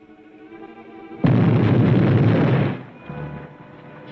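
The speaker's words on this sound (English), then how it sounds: "Explosion. Beneath bank." An explosion goes off beneath a bank in a 1945 film: a sudden loud roaring blast that holds for over a second before it fades into a lower rumble.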